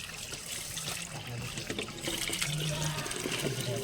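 Water trickles and splashes as it is poured over someone's hands to wash them after a meal, a steady low pour with faint voices in the background.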